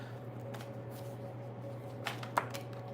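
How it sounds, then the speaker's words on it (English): Tarot cards shuffled by hand in a quiet room, a soft steady riffling with a few sharper snaps and flicks near the end, close and fairly faint. "Sometimes it's like I feel like I just keep shuffling and shuffling."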